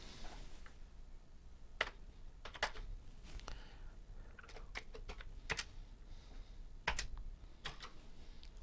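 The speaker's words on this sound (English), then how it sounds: "the keyboard needs a good cleaning, but the keys are not all that responsive." Fingers type steadily on a computer keyboard that needs cleaning and has unresponsive keys. The soft, irregular key clicks come in quick runs over a low background hiss, and no one speaks.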